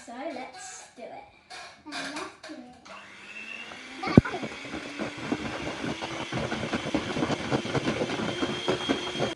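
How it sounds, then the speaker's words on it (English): An electric hand mixer whirs steadily through cheesecake batter, a loud buzzing drone with rattling beater clatter that starts partway in after a voice speaks and a sharp knock, then runs on to the end. "So we're going to use this hand mixer."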